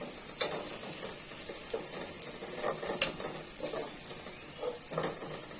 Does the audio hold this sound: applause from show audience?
no